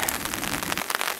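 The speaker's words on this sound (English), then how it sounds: "It was quite a downpour" Heavy pouring rain drumming steadily on a tarp, a dense, continuous patter close overhead, lightening a little near the end.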